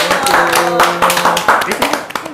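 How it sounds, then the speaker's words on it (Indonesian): Clapping for podcast guests in a studio, a quick burst of hand claps close to the mic with voices talking over it throughout. "Tepuk tangan dulu untuk Fortune."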